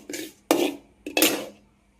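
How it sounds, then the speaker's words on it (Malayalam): A spoon scrapes and knocks in a pan while fenugreek seeds and dried red chillies are stirred and roasted, three distinct clattering strokes close by with no talking. "നന്നായിട്ട് ഇളക്കി കൊടുത്ത് വറുത്തെടുക്കണം"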